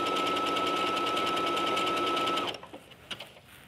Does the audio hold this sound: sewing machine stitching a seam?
yes